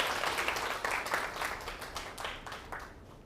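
Applause of thanks for a helper during a science lecture, a short burst of group clapping with distinct hand claps, moderately loud and steady before tapering off.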